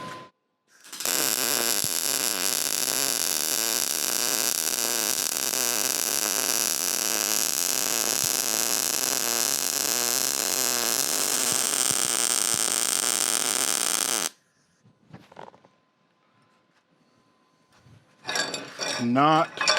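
A Lincoln Electric 211i welder lays a bead on flat plate with a steady, loud crackling hiss for about thirteen seconds, then cuts off to near silence before some brief clattering.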